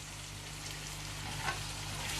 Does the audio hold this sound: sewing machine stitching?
no